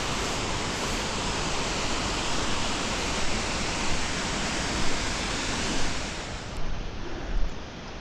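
A Himalayan stream rushes steadily along a mountain trail, a dense continuous roar close by that holds level throughout, then thins a little near the end with a few soft knocks.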